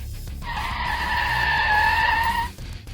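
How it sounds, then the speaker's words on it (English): In the video game Car Service Together, a car doing burnouts in a parking lot lets out one sustained, loud tire squeal lasting about two seconds, with faint engine noise underneath. "I see someone trying to do burnouts in my parking lot again."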